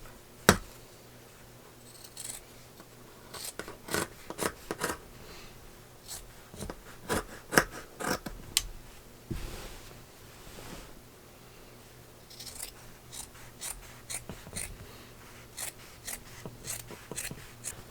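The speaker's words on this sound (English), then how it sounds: "I'm going to cut off all this extra." Scissors snip through excess quilt binding fabric on a baby quilt, a steady series of short, crisp cuts close by with slicing rasps between them and no talking.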